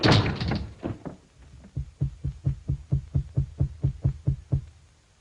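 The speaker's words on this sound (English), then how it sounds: "shut the door in his face" A door slams shut in a children's storybook reading, one loud bang followed by a run of regular, dull thumps, with no talk.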